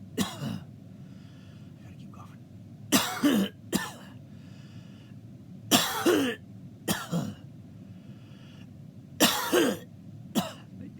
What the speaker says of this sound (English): It's a really, really hard, dry cough, like nothing I've felt in a very long time.